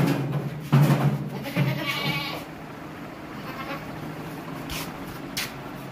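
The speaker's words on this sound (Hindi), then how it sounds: "बहुत ज़बरदस्त बकरी है, मोटी ताज़ी खूबसूरत बकरी है" A plump, healthy she-goat of the Teddy breed bleats a few times at a livestock market, with short wavering calls close by, and quieter animal and crowd noise carries on in the background.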